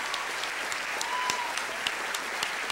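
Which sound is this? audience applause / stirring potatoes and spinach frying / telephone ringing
audience applause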